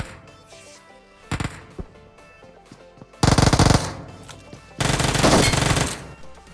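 Gunfire in the PUBG Mobile battle royale game during a solo-versus-squad match: a short burst of shots, then two longer sustained loud automatic volleys, with quieter game ambience in the gaps and no talk.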